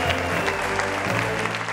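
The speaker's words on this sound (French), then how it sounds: "On applaudit pour Simon Adengra de WAM." A studio audience on a television show applauds briefly for a lookalike guest, dense continuous clapping that stays fairly even throughout.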